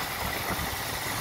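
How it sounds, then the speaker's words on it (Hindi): An Eicher 485 tractor, a 45 horsepower three-cylinder diesel, labors in low gear hauling a trolley loaded with potatoes, giving a close, steady, throbbing engine rumble for a brief moment. "ये देखे ट्रैक्टर कितना दम लगा रहा है"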